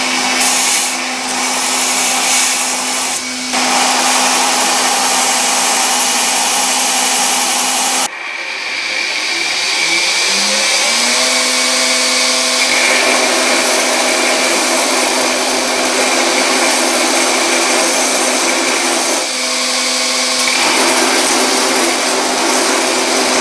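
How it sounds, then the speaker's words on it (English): A grinder grinds down metal bottom-tool parts for a fly press with a loud, continuous motor whine. It cuts out briefly, then spins back up with a rising pitch and runs on steadily. "So I'm going to grind those down to make them match."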